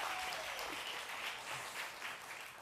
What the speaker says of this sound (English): let's give a big round of applause for Insane Paintball.